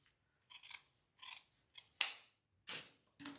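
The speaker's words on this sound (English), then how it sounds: "So if I want to roll it to about this length, I'm going to cut off about 4 inches." Scissors snipping ribbon for a bow, six or seven separate crisp cuts spaced irregularly over a few seconds, close and clear against near silence.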